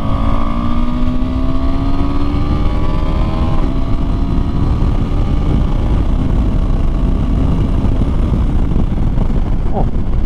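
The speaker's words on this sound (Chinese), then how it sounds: "我在这边做个退档，把这快排补油补得很积极" KTM 390 Adventure motorcycle downshifting, its quickshifter blipping the throttle, with a loud, steady engine drone, rising and falling rev tones and heavy wind rush close by throughout.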